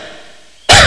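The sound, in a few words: cough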